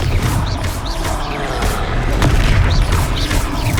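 Fiery Confringo spell blasts in Hogwarts Legacy make a loud, continuous rumbling boom with crackling impacts that stay dense and heavy throughout.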